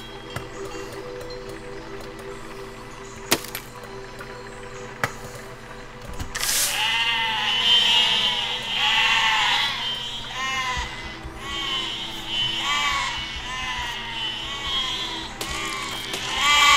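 Sheep in the video game Besiege bleat repeatedly over a steady low background hum, a chorus of wavering calls that starts partway through and continues to the end.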